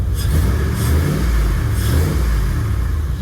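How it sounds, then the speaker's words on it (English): An OBS Ford truck with an LS swap and a mechanical fan conversion revs loud and close, a deep throaty roar swelling in a couple of throttle blips. "I wonder if it sounds like a Ford when you rev it now."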